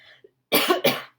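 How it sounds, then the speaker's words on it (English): Two quick, close coughs in a row, sharp and loud, following a brief faint sound. "I'm also coughing and need some water"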